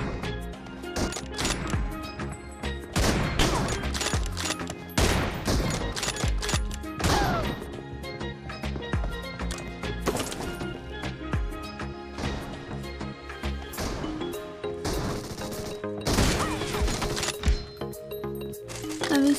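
Gunfire in the mobile battle royale game PUBG Mobile crackles in dense bursts of shots and impacts throughout, mixed with busy game sounds.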